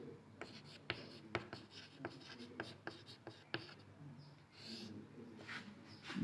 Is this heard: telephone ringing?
no